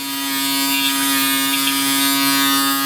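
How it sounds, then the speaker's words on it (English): Manscaped Handyman electric razor shaving hair directly on a hand, giving a steady close electric buzz with a strong hum that holds evenly for a few seconds, no voices. "So just directly on my hand here, it's getting a nice shave without any problems."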